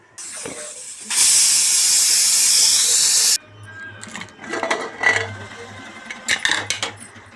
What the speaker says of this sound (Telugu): మూడు నాలుగు విజిల్ వచ్చే వరకు ఉంచుకున్నా